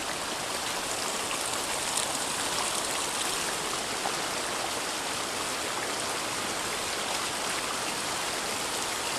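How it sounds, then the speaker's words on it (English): Snow-melt water pours steadily down a waterfall in a wilderness stream, a dense, continuous rushing hiss close by with no break and no voices. "Look at the falls."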